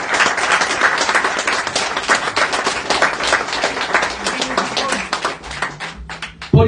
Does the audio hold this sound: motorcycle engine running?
no